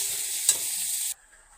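Food frying in a pan for a Bengali chicken bharta gives a loud, bright sizzle with a quick stirring scrape near the start, then cuts off abruptly, leaving near silence.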